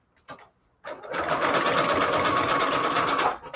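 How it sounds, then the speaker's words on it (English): A sewing machine zigzag-stitching lace trim over seams for a paper junk journal embellishment runs in one steady, loud, continuous whir for about two and a half seconds after a few faint taps and handling noises. "we could do what I do with my trim and sew zigzag where the seams are"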